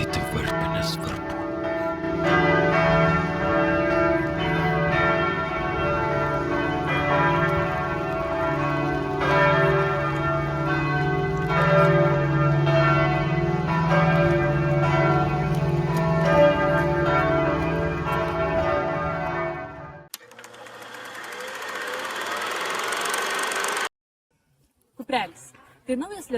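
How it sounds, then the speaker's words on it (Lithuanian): Bells in a church bell tower ring out in a long, dense peal of overlapping tones for about twenty seconds before stopping abruptly, followed by brief unrelated noise. "O dabar kviečiu pasiklausyti varpinės varpų."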